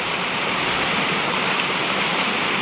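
England's highest waterfall pours over a drop, giving a steady, dense rushing roar of falling water that stays constant throughout, close and fairly loud with no voices.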